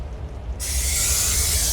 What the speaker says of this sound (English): go ahead and spray our pan that we're pouring the fudge into so that it doesn't stick to the pan